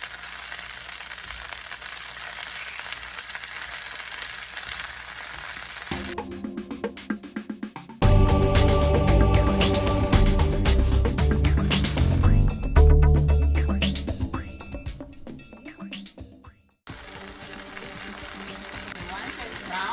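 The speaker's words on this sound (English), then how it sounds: "I like this skin nice and crispy, so I cook it." Chicken skin sizzles and fries in a pan until crispy, a steady crackle broken by louder bursts of spattering and stirring, with a voice speaking over it.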